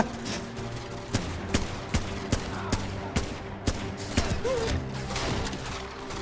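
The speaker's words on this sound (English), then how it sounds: "Who's shooting at me?" Gunfire in a VR gun game, a series of evenly spaced sharp shots cracking about every half second over a low background hum.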